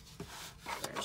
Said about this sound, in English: Burnish that a little bit more.